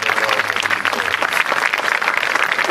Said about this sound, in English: you should just clap your hands right there